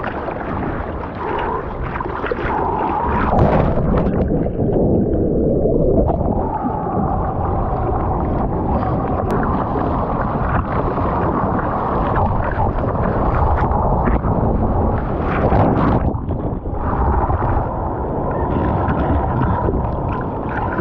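Ocean surf breaking straight onto a sandy beach on an odd-conditions Australian morning, a loud continuous wash of churning water and wind-like roar with surges building and fading throughout.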